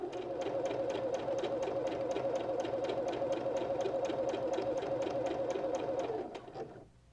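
An embroidery sewing machine stitches steadily around a circle on a cork coaster, a fast even needle rhythm running loud and close for about six seconds before stopping.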